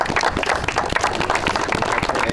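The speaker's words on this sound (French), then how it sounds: "On doit applaudir les joueurs qui étaient avec nous, là, les joueurs japonais." A group claps for young Japanese football players on an immersion visit in Lyon, producing dense, continuous applause from a nearby small crowd without any talking over it.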